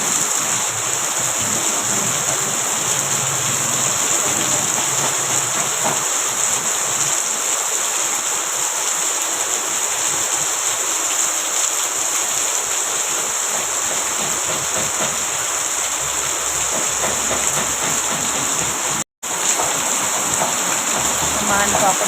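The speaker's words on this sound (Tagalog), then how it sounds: "Lakas ng ulan eh." Heavy rain pours down in a steady, dense hiss that stays loud and unbroken for the whole stretch, with only a momentary dropout near the end.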